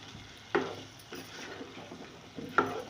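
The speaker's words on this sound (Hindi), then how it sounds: "अब इन दोनों को भी डालकर कीमे में बहुत अच्छी तरह आलू और मटर को मिक्स करूँगी।" A spoon stirs potatoes and peas into minced meat in a pan, with two sharp scraping knocks against the pan over a soft, steady sizzle of frying.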